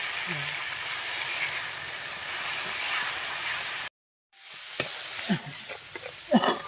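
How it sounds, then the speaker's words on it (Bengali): Spice masala being sautéed in oil in a pan for an egg and curry leaf kadhi, with a steady loud sizzle that cuts out briefly, then resumes with sharper scraping stir strokes and crackles. "মশলাটার থেকে যত সময় না তেল ছাড়বে তত সময় এইভাবে আমি কষে নেব"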